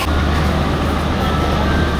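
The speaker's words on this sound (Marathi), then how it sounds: "ही पण ट्रेन चालली अमृतसरलाच. शताब्दी एक्सप्रेस आहे." Loud, close rumble of the Shatabdi Express bound for Amritsar passing by, a dense continuous rolling clatter and roar of the train.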